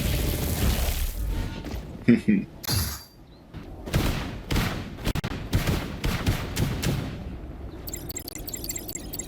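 Shotgun pellet gunfire in the video game Marvel Rivals comes as rapid bursts of sharp blasts in quick clusters, loud over game sounds, with voices talking at times.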